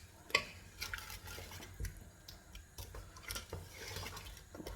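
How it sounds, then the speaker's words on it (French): Chicken drumsticks stirred in tomato sauce with pine nuts in a pan, soft irregular scrapes and clinks of a utensil against the pan, quiet and close, with a faint wet bubbling beneath and no speech. "On mélange un bon coup."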